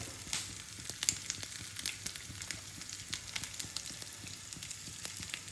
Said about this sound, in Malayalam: ചെറുതായിട്ട് അരിഞ്ഞ തേങ്ങാക്കൊത്ത് നെയ്ക്കകത്തോട്ടിട്ട് വറുത്തെടുക്കുകയാണ്